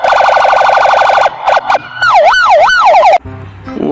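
A toy police car blares a loud electronic siren up close, first a rapid warbling yelp, then a few short chirps, then a slower wailing sweep before it cuts off abruptly.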